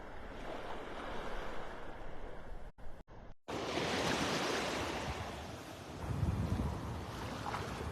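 Waves roll onto a mile-long beach in North Naples, Florida, a broad surf wash with wind buffeting the microphone and a brief dropout partway through.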